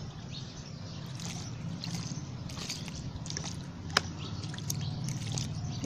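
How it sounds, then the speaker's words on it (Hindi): Water is poured onto a potted gaillardia (blanket flower) plant, giving a steady, soft trickle and splash that runs continuously at close range with occasional small drips and clicks. "और फिर इसमें आपने जैसा कि पानी देते हैं, ये पानी दे देना है।"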